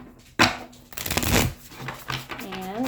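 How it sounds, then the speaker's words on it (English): A deck of cards is shuffled close by, a sharp riffle burst followed by a longer fluttering rush of cards, then softer handling noise as a voice starts to speak. "I'm going to one more shuffle and cut the deck"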